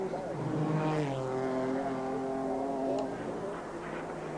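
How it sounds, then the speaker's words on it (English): A 2-litre turbo sports sedan racing at Bathurst in 1992, its engine droning steadily and easing off then picking up again, heard at a distance under race commentary. "He just eases off the throttle and gives it a jab again."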